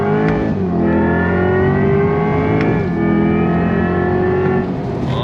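A 2024 Chevrolet Corvette C8 E-Ray accelerates hard on throttle, its engine note climbing steadily in a loud, sustained roar with brief dips at shifts, heard from close inside the car.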